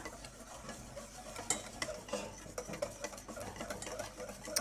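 A whisk beats batter for Norwegian school bread in a bowl, a faint, busy run of quick scraping and tapping strokes with no talk.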